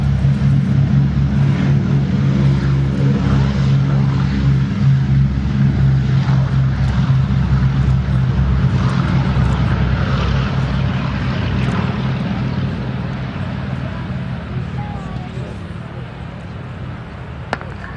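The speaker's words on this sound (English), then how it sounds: "So here goes the B-17 then rolling." A Boeing B-17 bomber rolls for takeoff at an air show at Yeovilton, its piston engines and propellers making a steady, loud, low droning roar that slowly recedes, with a commentator talking over it.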